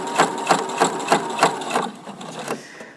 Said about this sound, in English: let the fabric the sewing machine feed the fabric through